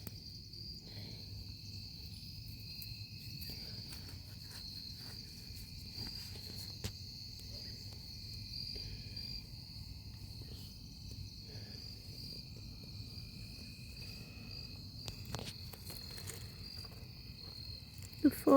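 Crickets in the undergrowth of a large terrarium ecosystem trill in steady, faint, continuous chirping, with a second high insect tone that drops in and out and a few soft scrapes and clicks nearby.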